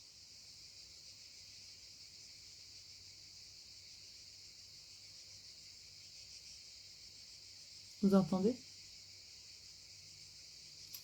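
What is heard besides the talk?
cicadas singing, one singing louder than the others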